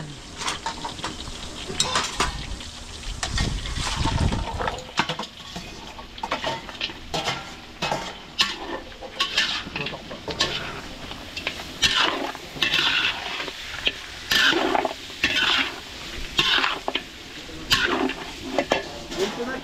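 Annatto powder is stirred into a large pot of food at a catering event in Pampanga, with repeated close scraping and clanking of a utensil against the pot over a simmering sizzle.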